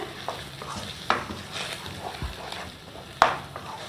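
A bread halwa mixture roasting in ghee is stirred in a pan, with a soft sizzle and repeated scraping and clinking of the spoon against the metal, one louder knock near the end.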